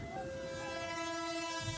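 A Putri Deli passenger train on the Medan to Tanjung Balai line sounds a long, sustained horn at moderate distance, with rail rumble and steady background noise running beneath it.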